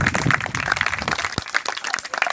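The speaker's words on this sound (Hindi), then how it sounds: "एक बार जोरदार नवाब खान जी के लिए तालियां" An audience at a school event on smoking and addiction applauds the guest Nawab Khan, with dense, loud clapping throughout the short burst.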